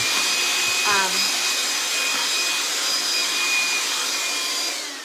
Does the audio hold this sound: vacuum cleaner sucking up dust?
yes